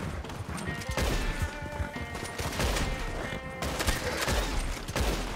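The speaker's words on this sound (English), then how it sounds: "it's time to pull the rifle out" Rifle gunfire in Red Dead Redemption 2, a string of sharp shots with scattered crashes over a busy game soundscape, moderately loud throughout.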